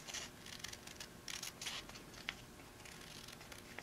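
Scissors snip through fabric with light bonding interfacing along a traced line for a wine bottle bag, giving quiet, irregular crisp cuts at close range, with one sharper snip standing out.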